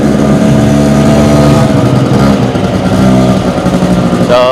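A freshly cleaned Honda Dio scooter engine runs loud and close throughout, with a steady droning hum and slight rises in pitch near the end.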